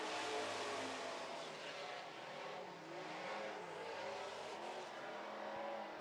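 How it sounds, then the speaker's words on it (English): Stock cars, including a big Dodge, race down the front straightaway of an oval track in a super stocks event, a steady loud engine roar that rises and falls as the pack passes, continuous and fairly distant with no talk. "Scott Brown looks to be and is catching him quite quickly now as they come down the front straightaway"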